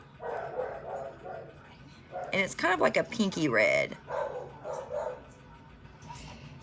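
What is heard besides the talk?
dogs barking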